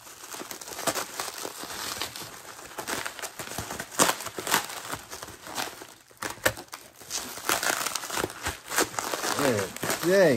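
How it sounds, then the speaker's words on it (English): Packing material crinkles and crackles loudly while graded comic books are unboxed with scissors, bursts of close rustling and tearing throughout, with a person talking over it. "You know, the packing is very loud."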